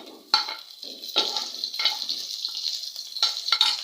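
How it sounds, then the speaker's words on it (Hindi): A masala with dried fenugreek, cumin and tomato fries in a pan while a spoon stirs it: bright, steady sizzling broken by repeated scraping strokes, loud and close with no talk. "अब इसको हम थोड़ी देर के लिए भूनेंगे"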